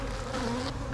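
Close, continuous buzzing of honey bees clustered in a new hive box, a dense steady hum with a low droning tone throughout.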